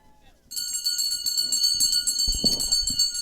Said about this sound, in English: All riders getting bell lap with 1 to go.